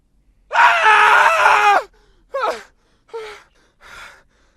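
A man screams at himself in a long, loud sustained cry, then gives three shorter strained yells with brief silences between them.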